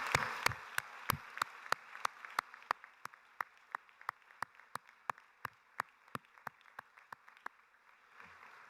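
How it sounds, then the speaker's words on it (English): Audience at a school commencement ceremony applauding the staff, heard as quiet, sparse clapping led by one nearby pair of hands striking sharp, evenly spaced claps over a faint wash of distant applause that fades out. "Please join me in offering a great round of applause to express our thanks for all this great staff has done"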